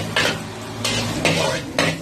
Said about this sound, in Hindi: आप उसको फिर अच्छी तरह सौते कर रहे हैं।